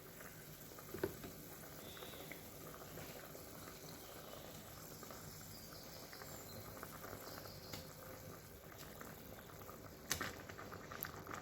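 Pot of meat stock with mackerel added, boiling on the stove for Cameroonian egusi pudding, a soft continuous bubbling and simmering patter with occasional small pops, close and fairly quiet.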